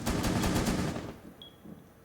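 Video game gunfire from Rainbow Six Siege: a loud, rapid automatic burst rattles for about a second, then cuts off, leaving quieter game ambience.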